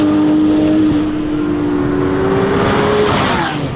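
A Porsche GT3 Touring with a fuel-injected engine drives along country roads, its engine droning loud and steady with shifting pitch as it pulls, tire and road roar filling the background, no voices.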